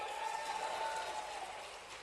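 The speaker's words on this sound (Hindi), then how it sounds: "जरा ताली वाली बजा के बताओ" An audience claps together at an outdoor rally in Madhya Pradesh, a steady, fairly faint wash of applause that holds level for two seconds.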